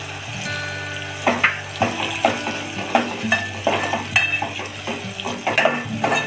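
Turmeric, onion and garlic masala sautés in a pan for a village-style fish curry, with a low frying sizzle under repeated close scraping and stirring knocks of a spoon against the pan, no voices.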